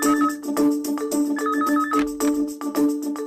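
A telephone ringtone plays loudly and continuously in a repeating melodic pattern of short bright tones, filling the room with no one talking over it.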